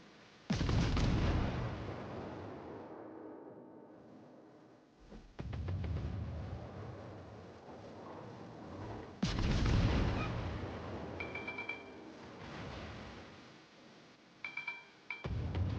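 Heavy naval gunfire from a warship battle in World of Warships, a Japanese cruiser engaging enemy ships: loud booming salvos around 0.5, 5 and 9 seconds, each followed by rumbling decay and scattered lighter pops.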